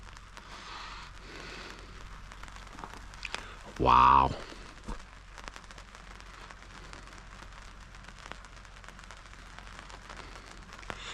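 Steady rain patters on surfaces outdoors near a camp with a tarp, a soft continuous hiss dotted with drop clicks, interrupted once by a brief spoken exclamation.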